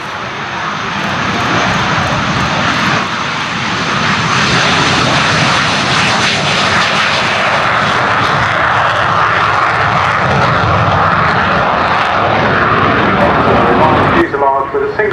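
Hawker Hunter jet with a single rear exhaust roaring past at an air day display, loud and sustained with a rising, sweeping rush, while a commentator talks over it.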